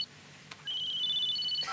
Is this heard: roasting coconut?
no